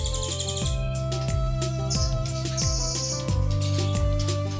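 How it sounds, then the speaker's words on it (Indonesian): Caged songbirds at a bird-boarding and song-training school chirp and trill steadily and loudly, overlapping calls repeating throughout with no voices. "sekolah mastering burung untuk melatih burung kesayangan berkicau dengan indah"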